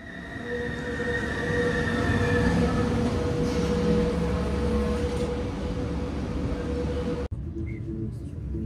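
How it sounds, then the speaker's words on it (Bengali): A Swiss train pulls in at a station platform: a steady, loud rumble of wheels and carriages with faint high squeals, cutting off abruptly near the end to a quieter hum. "ট্রেন এসে দাঁড়ায় প্ল্যাটফর্মে এক্স্যাক্টলি 8:05-এ"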